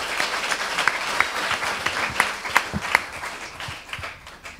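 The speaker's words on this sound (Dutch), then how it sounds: "een hartelijk applaus voor ons gevaarlijkste jurylid" A live late-night show audience applauds a jury member, a moderately sized crowd clapping fairly loudly and close, with some sharper individual claps standing out as the applause gradually thins toward the end.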